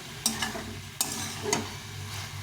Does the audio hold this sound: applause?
no